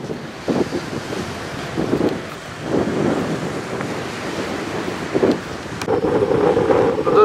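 Steady south wind buffets the microphone at Lyubimovka beach in Sevastopol, with surf rumbling underneath and a few louder gusts.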